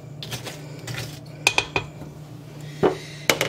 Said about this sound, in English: you want to stir until all of your pieces are coated in chocolate